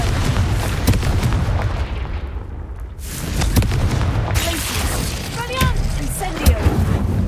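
Confringo blasting spell explosions in Hogwarts Legacy, heavy booming bursts with crackling debris recurring over a dense rumbling game soundscape, with a voice calling out spell names between the blasts.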